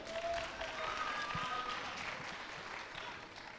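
An audience at a school voice festival applauds, a dense steady wash of clapping heard from within the crowd, with a voice briefly speaking over it.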